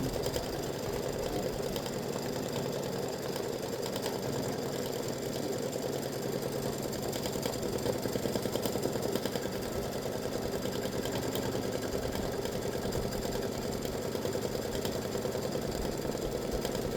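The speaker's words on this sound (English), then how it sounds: "So I'm going to use this for the grid and for the satin stitching." A sewing machine satin stitching a grid pattern on a patriotic ice cream tic tac toe game set, running as a steady, continuous mechanical hum and whir throughout, alone with no talking.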